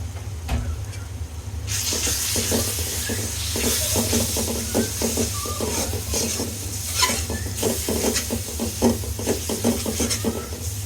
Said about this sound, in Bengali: এটাকে ভালো করে কষিয়ে নিব আমি